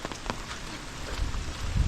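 Heavy rain pours down steadily during a low-pressure storm, a dense, even hiss of drops on surfaces, fairly close with no voices.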